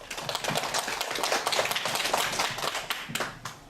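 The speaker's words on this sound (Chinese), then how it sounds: "我们还是一样以我们的热烈的掌声来欢迎我们的老师" An audience claps warmly to welcome a teacher at an education talk, a dense burst of applause from many hands that holds steady for several seconds and then thins out toward the end.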